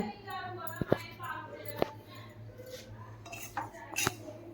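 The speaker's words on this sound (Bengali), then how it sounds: "তারপরে কড়াইটা চাপিয়ে দিলাম" A metal wok set on a stove gives a few sharp clanks and clinks, spaced irregularly, fairly quiet in a calm kitchen with someone talking between them.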